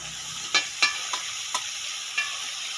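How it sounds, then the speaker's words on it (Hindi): Fresh spinach leaves tossed into frying masala for aloo palak, with a steady close sizzle broken by five sharp clattering stir strokes of a utensil in the pan. "अब इस स्टेज पे इसमें पालक ऐड कर दें।"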